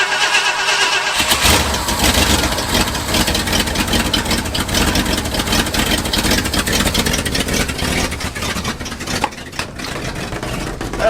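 An abandoned old farm tractor engine that has sat unused for months cranks and fires right up at once, then settles into a steady, loud, continuous idle with a rough mechanical clatter.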